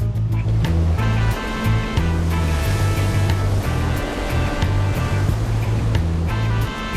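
Large ocean waves break with a continuous loud roar and wash, heard close up. A deep, pulsing low rumble under the surf may come from wind or a boat engine. No talking.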